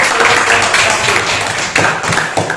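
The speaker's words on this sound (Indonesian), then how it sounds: "Ya, tepuk tangan dulu untuk" Classroom applause for a presenting student group, a dense continuous patter of many hands clapping at close range, staying loud throughout with a few sharper bursts near the end.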